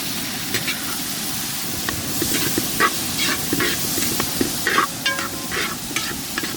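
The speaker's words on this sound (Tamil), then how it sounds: "வாழைத்தண்டு நல்லா அந்த வெங்காயம் வாசனை பொருள் நல்லா வதங்கி வந்துட்டு இருக்கு" Banana stem and onions with spices sautéing in oil for a South Indian kurma, making a steady close sizzle and hiss broken by frequent scraping stirs, with no voices.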